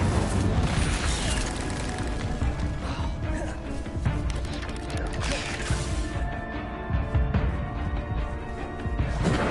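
A fire spell is cast in the video game Hogwarts Legacy, giving dense roaring bursts and booming crashes that form a loud, sustained wash of magical combat effects.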